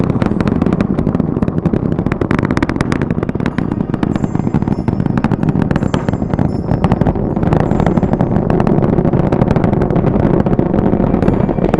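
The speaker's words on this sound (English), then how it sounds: "The 4 core stage engines are back at maximum thrust." Artemis rocket's four core stage engines roaring at full thrust during launch, a loud, continuous crackling rumble that holds steady throughout with no speech.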